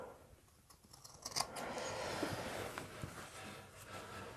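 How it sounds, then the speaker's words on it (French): Scissors snip fabric and threads on a sewn cloth bulk-food bag, with several close, crisp cuts and rustling, fairly quiet, with no talking. "Et on coupe les fils."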